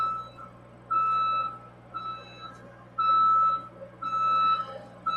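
A repeating electronic beep, like a vehicle reversing alarm, sounds in regular pulses over a low engine hum, each tone clear and fairly close.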